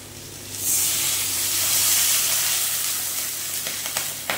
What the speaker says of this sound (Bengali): বন্ধুরা, এই এঁচোড়টা দিয়ে এবার কষা হয়ে গেছে, এবার দিয়ে দেবো জল।